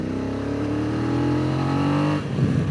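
A BMW F900XR motorcycle engine revs up close and loud, its pitch climbing steadily as it accelerates, then cutting off abruptly near the end into rougher wind and road noise.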